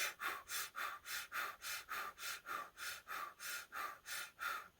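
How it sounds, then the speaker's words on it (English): Rapid, rhythmic breath-of-fire yogic breathing, about fourteen sharp, even exhalations, each followed by a short intake, close and steady with no talking. "Make an O mouth breath. And breath of fire."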